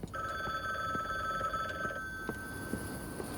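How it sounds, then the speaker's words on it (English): An old-style telephone bell rings inside the Bookwalker: Thief of Tales video game, a bright, steady ring heard fairly near, then cut off partway through and followed by quiet background sound. "Sounds like it's ringing in there."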